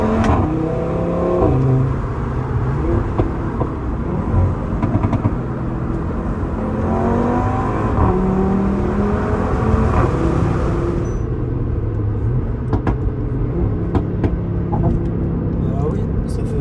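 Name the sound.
Audi RS3 car engine revving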